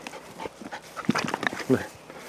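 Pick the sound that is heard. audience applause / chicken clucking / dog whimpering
dog whimpering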